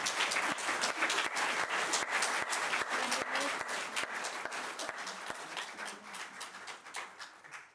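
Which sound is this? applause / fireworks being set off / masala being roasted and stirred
applause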